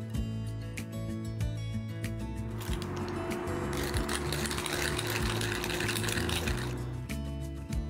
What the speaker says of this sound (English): put both of the peppercorns and the cumin seeds into this little grinder and grind these spices into a powder